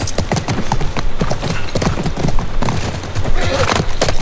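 Horse hooves clip-clop in The Last of Us on PS5, a steady close rhythm of hoofbeats running throughout with a faint whinny and little talk.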